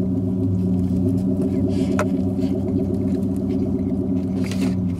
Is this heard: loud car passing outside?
yes